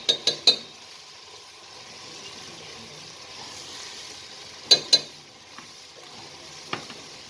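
Spice paste for duck curry sautéing in a pan, a soft steady sizzle under a few sharp spoon clinks and scrapes near the start and middle as it is stirred.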